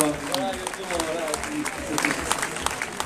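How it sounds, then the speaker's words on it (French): Crowd applause for a runner at the finish of the Millau 100 km race, steady outdoor clapping with sharper claps standing out, under someone speaking. "il faut l'applaudir."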